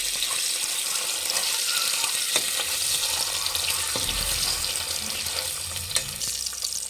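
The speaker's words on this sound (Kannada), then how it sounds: "ಒಂದು ಸ್ವಲ್ಪ ಫ್ರೈ ಆಗಬೇಕು" Masala frying in a pan while an egg biryani is cooked, a steady broadband hiss running throughout at moderate loudness with a few faint clinks, no voices.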